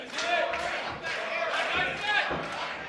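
A wrestling crowd roars and cheers continuously, a dense swell of many voices rising and falling in waves with a few thuds mixed in, loud and close throughout.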